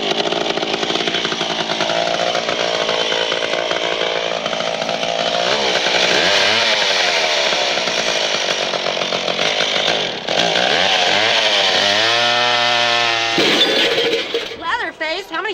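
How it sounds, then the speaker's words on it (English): Loud chainsaw runs and revs continuously as a Halloween radio sound effect for Leatherface, with its pitch rising and falling through several throttle bursts before it cuts off near the end. "turn your chainsaw off before you put it on the coffee table"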